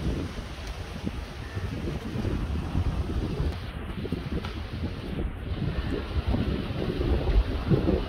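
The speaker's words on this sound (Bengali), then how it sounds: "প্রচুর বাতাস হচ্ছে আজকে" Strong wind gusting over a river where fishermen's boats struggle toward the bank, heard as a continuous rough roar and buffeting against the microphone, with a faint water wash beneath and no talking.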